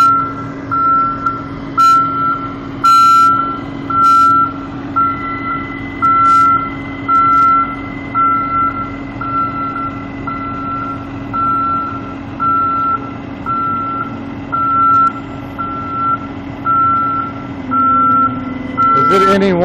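A Publix delivery truck maneuvering in Lakeland, Florida, its reversing alarm beeping steadily and evenly for the whole stretch over a constant engine hum, with other traffic noise.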